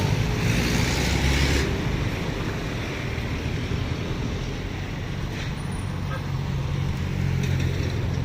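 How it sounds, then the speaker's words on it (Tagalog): Road traffic in Bajada, Davao City, a broad, continuous roar of passing vehicles that swells near the start and then settles, with people talking nearby. "Traffic nga lang eh."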